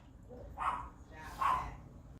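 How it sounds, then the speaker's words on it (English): Dogs barking indoors, two separate loud barks spaced about a second apart, fairly close, over a faint background hum. "hopefully the barking is done"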